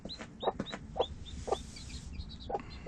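A hen named Sunny, a former battery-farm layer now a mother, clucks softly with her chicks peeping in high, thin chirps close by, a busy overlapping chatter of short calls.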